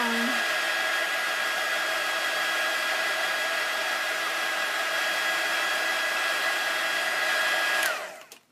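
A hair dryer blows steadily over paper to dry watercolor pencil coloring, a loud close whirring hum that holds constant, then winds down and cuts off at the end.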